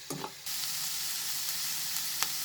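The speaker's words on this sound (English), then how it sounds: "Now, after sauteing it for 2 minutes, as you can see, my vegetables are all mixed very nicely and it's nicely cooked." Mixed vegetables for chicken macaroni soup sauteing in a pan, a soft continuous sizzle with a couple of brief stirring scrapes at the start and another near the end, with no voices.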